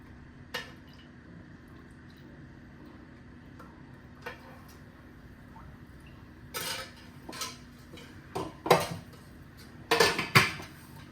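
A metal kadhai is handled on a home stove while a little oil goes in: scattered clinks and taps of metal on metal, sparse at first and then clustering into louder knocks over a soft background hum, with no talking.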